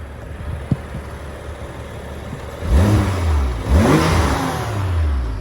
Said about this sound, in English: it's hard to rev the engine from the front, so I'll try to do this for you